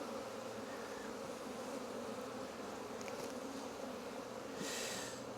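Honey bees buzz densely around an open beehive during a hive inspection, a continuous close, loud drone with individual bees whizzing past the mic.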